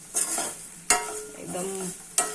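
Vegetables fry crisp in a hot pan, with a loud steady sizzle broken by sharp scrapes and knocks of stirring at intervals. No one speaks.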